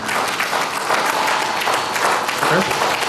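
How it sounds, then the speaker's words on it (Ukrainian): Loud, dense applause from an audience at a business talk, a steady wash of many hands clapping that fills the whole short stretch without pause. "Бачите, які бурні оплески."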